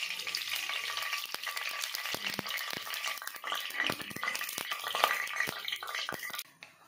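Mustard oil heats in a pan, giving a close, continuous crackling sizzle with scattered pops and light stirring scrapes, no voices over it.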